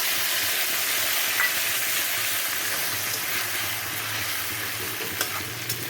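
Paste of boiled tomato, onion and garlic with a little cumin frying in a pan, a steady soft sizzle with faint stirring ticks running throughout, fairly close, no voices.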